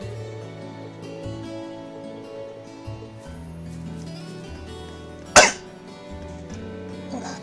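A single sharp cough bursts out once near the end, loud and close, over steady background game music from a role-playing video game.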